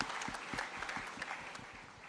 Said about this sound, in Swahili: Tumpigie huyu mungwana makofi jameni.